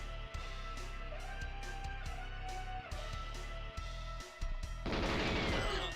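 Gunfire in an old N64 video game, a rhythmic series of sharp shots over steady game music, ending in a louder burst of crashing noise.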